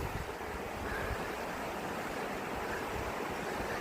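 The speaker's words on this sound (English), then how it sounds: "You can hear the Avonmore River as well" The Avonmore River at Avondale, County Wicklow, flows with a steady, broad rushing wash that holds constant throughout, with no talk over it.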